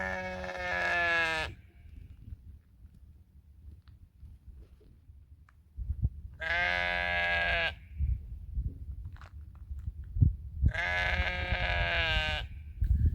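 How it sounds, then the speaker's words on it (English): A vociferous sheep on the Isle of Raasay gives three loud, drawn-out bleats, each about two seconds long and separated by quiet pauses, heard close against light outdoor background noise. "listened to the accompanying sounds of a rather vociferous sheep"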